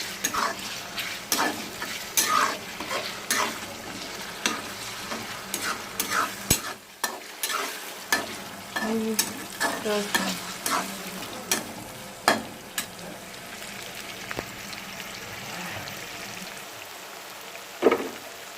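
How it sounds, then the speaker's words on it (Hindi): Ginger garlic paste sautéing in a pan for a meat curry, a steady close sizzle broken by frequent sharp scrapes and taps of a spoon stirring against the metal, with no talk. "मैं इसमें जिंजर गार्लिक पेस्ट डाल दी, इसको हल्का सा सौते करूँगी।"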